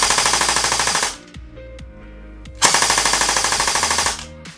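An LCT LCK104 AK-104 airsoft electric gun fires two full-auto bursts at a steady, rapid cadence, close and loud, separated by a short pause filled with mechanical clicks and handling noise.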